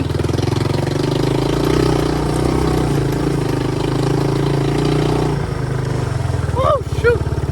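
A Yamaha YTM200 three-wheeler engine runs steadily on a trail ride, a loud, close, mid-pitched drone that holds its note, drops briefly as the gear changes, and then climbs again, with a rider's voice briefly over it.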